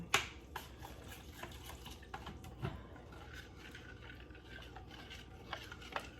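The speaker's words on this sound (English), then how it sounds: "I'm gonna stir this up" A spoon stirs beef stew with onion in a crock pot, soft scraping and occasional knocks against the pot's side coming in an irregular rhythm, close and fairly quiet with no talking.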